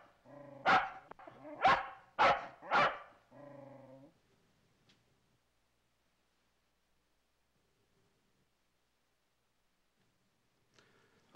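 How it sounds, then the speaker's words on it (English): A dog barks four times in quick succession, loud and close, before everything drops to near silence. "Actually, he was barking at a fish hook."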